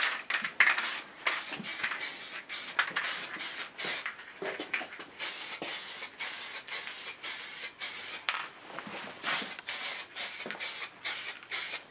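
Liquid wrap is sprayed from an aerosol can as a second coat onto a Triumph Tiger motorcycle, a series of hissing spray bursts separated by short pauses, close and fairly loud, with no voices.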